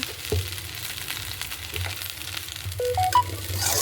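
Rice is stir-fried with salt in a hot pan for fried rice, giving a steady close sizzle broken by soft scrapes and tosses, plus a few short high tonal chirps near the end.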